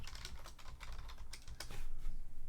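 Fast, irregular clatter of keys on a computer keyboard, close and fairly quiet, with no voices.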